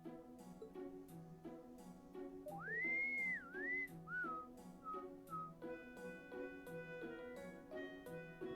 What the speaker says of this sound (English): That innocent whistling isn't fooling anyone.